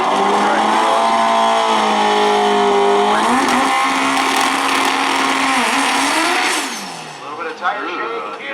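Drag race car at Maryland International Raceway revving loud and near with a strained, wavering engine note as the tires shake, pitch sliding up and down before cutting off and fading, with an announcer talking over it.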